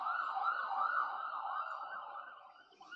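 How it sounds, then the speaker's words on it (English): Emergency vehicle siren wailing steadily at a moderate distance, one continuous high tone that holds for a few seconds and fades slightly toward the end. "A lot of siren noises tonight."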